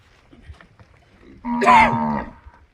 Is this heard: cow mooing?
yes